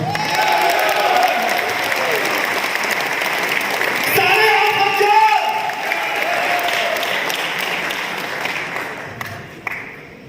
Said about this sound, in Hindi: आंकड़ा अच्छा लगे तो जोरदार ताली बजाना